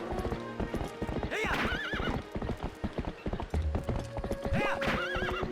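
Horse in Zelda: Twilight Princess, its hooves clopping steadily throughout while it neighs twice in rising whinnies, close and loud against continuous game background sound.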